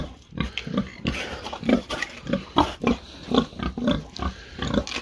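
White pig grunting in a rapid series of short, close, rhythmic grunts, roughly a dozen over several seconds, heard alone.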